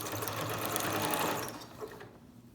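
A sewing machine zigzag-stitches a Tyvek face mask in one quick, close, rattling burst of rapid stitching that stops after about two seconds.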